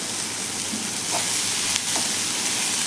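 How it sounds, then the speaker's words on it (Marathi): Spices and moth beans sauté in a hot pan, giving a steady, close sizzle with a faint stirring scrape now and then and no talking. "हे मसाले देखील आपण छान असे यामध्ये परतून घ्यायचे आहेत"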